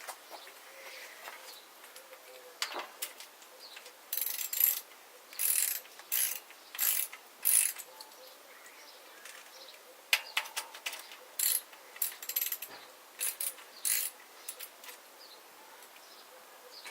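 Bicycle part tightened by hand gives bursts of dry ratcheting clicks in short repeated runs, close and fairly clear, with pauses between turns.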